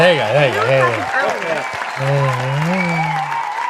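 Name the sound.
applause sound clip played on stream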